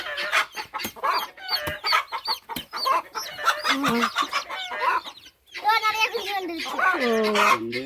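Chickens with their chicks cluck and chirp close by in alleys and nooks, a busy stream of clucks and high peeps with a short lull midway.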